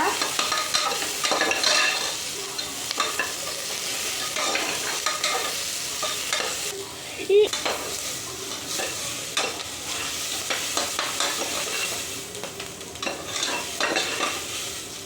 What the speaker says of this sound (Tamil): இப்போ நல்லா மிக்ஸ் பண்ணி வச்சுக்கோங்க